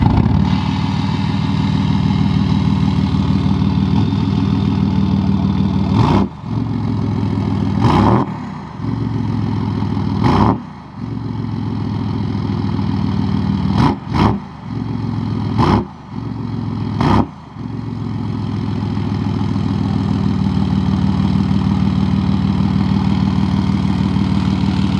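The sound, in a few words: Ford F-150 3.0 Powerstroke straight-piped diesel engine revving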